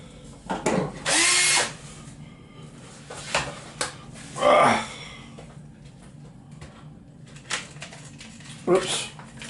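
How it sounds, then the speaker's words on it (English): A power drill bores through parts of a drum kit in several short whirring bursts separated by pauses, with handling knocks and clatter between them, close by. "I'm going to drill through here,"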